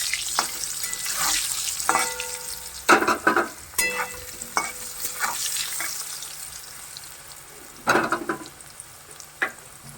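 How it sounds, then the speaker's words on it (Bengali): Potato pieces frying in oil with turmeric and salt, a constant sizzle under repeated loud clatters and scrapes of a spatula stirring in the pan, with busy clusters of strokes. "পরিমাণ মতো হলুদ, লবণ হলুদ দিয়ে আলুটাকে লাল করে ভেজে নেব।"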